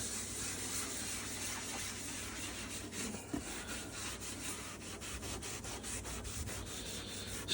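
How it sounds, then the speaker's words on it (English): Steady rough scrubbing on caked-on grease inside an oven, a continuous abrasive rubbing with brief stroke accents, close and fairly quiet with no talking. "Now let's give it a little bit of a scrub."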